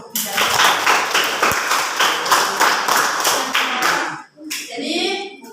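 A classroom of students claps in rhythmic bursts for a presenting group, loud and close, with a brief pause near the end before the clapping resumes more loosely.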